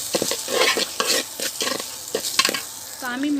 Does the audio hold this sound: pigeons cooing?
no